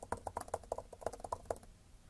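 Typing on an iPad Pro 12.9-inch with the Magic Keyboard (4th generation), a quick run of soft, evenly spaced key clicks for about a second and a half, close and fairly quiet, then stopping.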